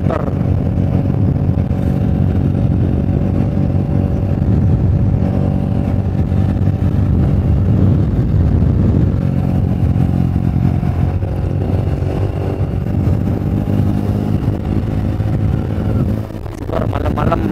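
A motorcycle engine drones steadily at close range on a dark, unlit forest road descending from Ijen crater toward Banyuwangi, a continuous loud hum with some clatter and faint speech.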